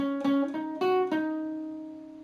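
Guitar picking a short phrase from a riff, five plucked notes in a quick uneven rhythm, the last one left ringing and slowly decaying, played alone and close.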